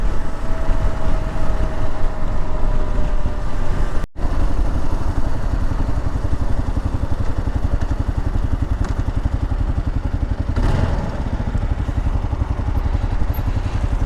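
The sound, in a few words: Kawasaki KLR motorcycle riding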